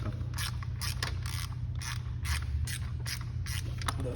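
On an Italika 250Z motorcycle, clutch cover bolts are worked loose with a ratcheting tool, giving steady bursts of metallic clicking over a constant low mechanical hum, close up with no talking.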